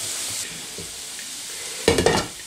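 Cabbage soup ingredients sizzle faintly in a frying pan at first, then a short burst of stirring and scraping comes near the end.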